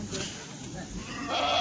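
Kathiawari goats bleat at a village goat market, a few short calls rising over crowd chatter and background noise, with people talking nearby.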